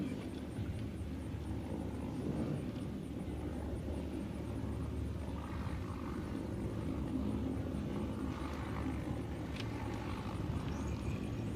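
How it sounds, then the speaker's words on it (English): A Boeing KC-135 Stratotanker jet on short final at an air show in Lakeland gives off a steady, loud engine roar and rumble with no letup. "And the KC-135 is on short final. As he comes in and lands"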